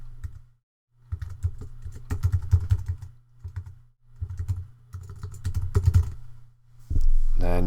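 Bursts of fast typing on a computer keyboard as a PayPal email address is entered, close and clear, with short pauses between runs of keystrokes.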